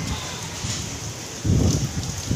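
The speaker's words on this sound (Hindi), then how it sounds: "बहुत तगड़ी बारिश हो रही है हमारे यहाँ पर" Very heavy monsoon rain pours down steadily in a dense, loud hiss with wind, intensifying into a stronger roar partway through.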